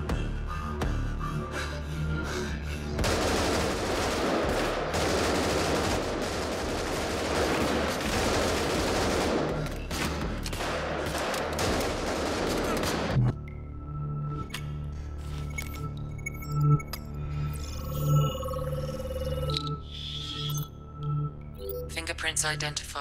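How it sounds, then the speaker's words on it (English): Gunfire in the shooter Get Even: for about ten seconds, rapid bursts of automatic fire rattle through dense noise. After that, game sounds and speech carry on quietly with scattered clinks. "Don't go guns blazing, they said."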